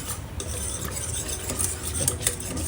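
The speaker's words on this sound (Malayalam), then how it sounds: "അപ്പോൾ ആദ്യം കുറച്ച് പാൽ ഒഴിച്ചിട്ടൊന്ന് മിക്സ് ചെയ്തെടുക്കുക." Cornflour is stirred into milk with a spoon, a continuous close swishing scrape with light taps against the bowl and no voices.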